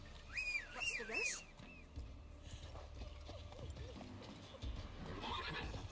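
Roach, a horse in The Witcher 3, whinnies in a couple of rising calls, with light hoof clip-clop underneath and someone talking quietly over the scene.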